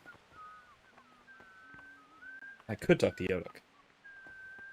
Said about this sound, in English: What's with the whistling?